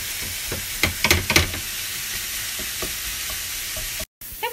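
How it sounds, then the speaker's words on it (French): Minced meat with spices fries in a pan, a steady close sizzle and hiss broken by a cluster of clacking scrapes and knocks as a utensil breaks up and stirs the meat, then a brief cut near the end. "on commence à émietter notre viande hachée jusqu'à avoir une belle farce"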